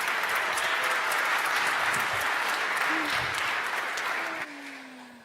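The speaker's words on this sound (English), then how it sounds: "Please, huge applause." Sustained audience applause at a Berlin developer conference, loud and dense throughout, tapering off near the end as the clapping thins out.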